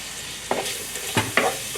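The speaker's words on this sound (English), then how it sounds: "And we're gonna stir this for a few minutes." Lemongrass, ginger, garlic and mint stir-fried in vegetable oil, giving a steady background sizzle broken by a few sharp scraping strokes of the spatula in the pan, close and moderately loud.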